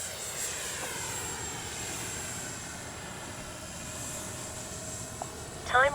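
A Freewing 70mm BAe Red Hawk RC jet with gear up and drop tank fitted flies past, giving a steady, loud, continuous whine that holds even across the whole stretch, with a brief rattle near the end.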